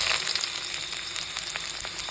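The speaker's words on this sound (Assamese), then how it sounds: "প্ৰথমতে তেল অকণমান দিলোঁ তাতে পিঁয়াজখিনি দি পিনে অকণমান সময় ভাজি ল'লোঁ" Chopped onions fry in a little hot oil, giving a steady, soft sizzle with faint crackling spits throughout.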